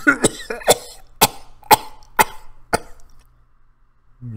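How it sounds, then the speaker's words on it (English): A man's bout of harsh coughs comes in quick succession, half a dozen bursts, then trails off into quiet. "The cough turned into a gut-wrenching fit"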